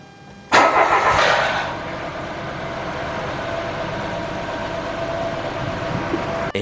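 A Mitsubishi Mirage G4 sedan engine cranks and catches after an oil change, flaring loudly at first, then settling into a steady, close idle that runs on with no talk.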